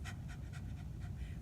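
A person imitates a hot dog's panting with a quick, even run of short, breathy puffs, about six close bursts in under two seconds.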